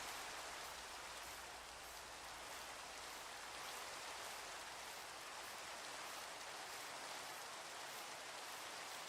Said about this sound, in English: Rain is nice in this game.